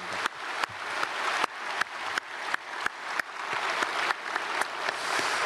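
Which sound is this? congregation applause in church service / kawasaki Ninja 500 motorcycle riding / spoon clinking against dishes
congregation applause in church service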